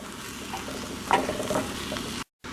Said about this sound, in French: Dans une casserole avec du beurre, je fais revenir 30 secondes mon échalote et le foie.